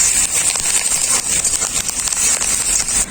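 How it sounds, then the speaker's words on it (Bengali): Curry leaves and onions fry in hot oil for chicken liver masala, a loud dense crackling sizzle that runs steadily throughout, close up, with no talking. "ক্যারিয়া পাতাটাও পেঁয়াজের সাথে খুব ভালো করে ভেজে নিলাম"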